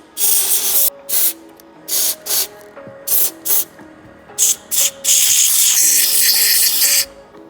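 Short bursts of aerosol cleaner sprayed onto a BMW M50 engine part in an E30 swap, about eight sharp hisses followed by one longer sustained spray, close and loud over faint background music.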